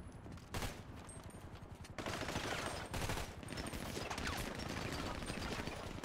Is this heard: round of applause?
no